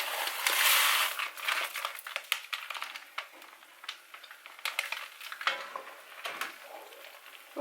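A package of soup ingredients for red pepper corn chowder gets tipped into a simmering pot, crinkling packet, pattering spill and soft clinks and stirring scrapes in irregular bursts, close and fairly loud, with no one speaking.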